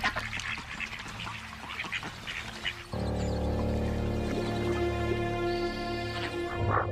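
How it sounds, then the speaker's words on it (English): Wild ducks at a riverbank in crocodile country, several birds quacking and calling in overlapping bursts, first scattered and chattering, then a sustained louder chorus of nasal quacks close by. "Feeling safe, the ducks focus on their own displays of dominance and bravado."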